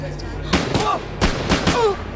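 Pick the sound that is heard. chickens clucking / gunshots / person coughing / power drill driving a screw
gunshots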